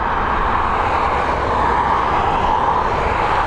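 A jet airliner climbs away from Dublin Airport, a loud, steady broadband engine roar that stays close and constant throughout.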